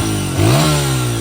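A Honda XR100 pit bike fitted with a 120 big-bore kit revs close up, the loud single-cylinder note jumping sharply in pitch, then holding at a high buzzing rev.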